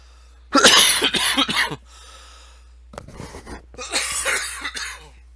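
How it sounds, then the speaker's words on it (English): A man coughs in two hoarse, clustered fits separated by a pause with faint breathing, close and fairly loud against a quiet room. "That's just a little bit of the cough that I've had"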